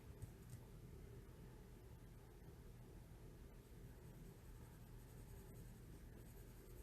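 Colored pencils scratch softly across thin, copy-weight paper in a faint, continuous rasp of steady strokes close to the microphone.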